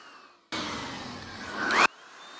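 An aerosol can sprays a coating in one steady hiss lasting just over a second, close and fairly loud, stopping abruptly.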